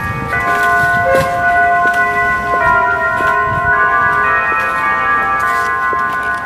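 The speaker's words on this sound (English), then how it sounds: "you can hear the church bells right now coming from the place where we just" Church bells ring from the Basilica in Asheville, overlapping tolls sounding steadily and fairly loud over a constant outdoor background.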